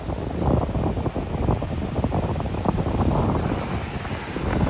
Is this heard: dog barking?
no